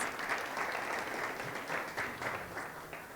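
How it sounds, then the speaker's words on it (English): Warm round of applause from a conference audience welcoming a professor to the platform at a university library event, dense and sustained clapping from many hands, fairly distant in a large room, without speech. "Let's give her a warm round of applause."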